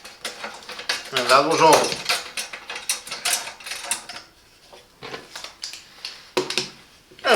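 Folding welding table, Gude MSKT 760, its mechanism adjusted with a screwdriver: close metallic clicks, ratcheting and rattling clatter in uneven bursts, with a person speaking briefly among the noises.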